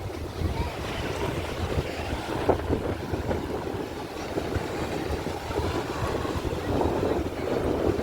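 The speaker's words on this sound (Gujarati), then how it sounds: "દરિયામાં મોજા એમ આવે છે બહુ મોટા મોટા મોજા આવે છે" Large sea waves break on the shore at Somnath, making a constant, loud, broad roar of surf that rolls on without pause, along with blustery wind noise.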